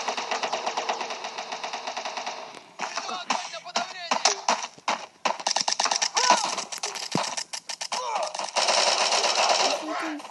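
MG4 machine gun in the Bullet Force shooter game firing in long rapid bursts, fast rattling shots with short pauses between volleys, loud and close while a player talks.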